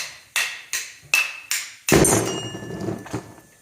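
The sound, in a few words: hammer knocking out bearings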